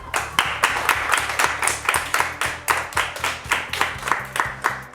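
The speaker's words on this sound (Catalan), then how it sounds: "Un aplaudiment per a Karol G." A small group claps steadily to welcome a guest at a school interview, a continuous run of fairly close, rapid hand claps without cheering.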